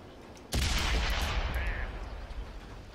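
An STB-1 tank fires its cannon in the World of Tanks video game: a single sudden, loud boom followed by a long rumbling tail that fades over two seconds.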